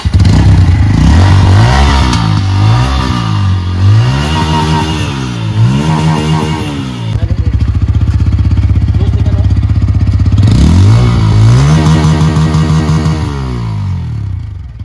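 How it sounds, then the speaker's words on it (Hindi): A 2023 Bajaj Pulsar N160 motorcycle exhaust revs hard and close, the engine note climbing and falling in repeated throttle blips over a loud, steady idle, then rising again in a second burst of revving. "तो एग्जॉस्ट का साउंड आप सुन के मुझे लगता है कि बहुत ज़्यादा इम्प्रेस होने वाला हो"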